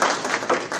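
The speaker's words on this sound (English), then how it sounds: "I think we should give Vincent a round of applause." A conference audience at a California tech event gives a short burst of applause for a presenter, brisk and fairly close, with no talking over it.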